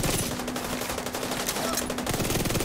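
Sustained automatic gunfire in the video game The Division, rapid shots fired at a hatch in a steady, dense stream of loud, close reports that continue without pause.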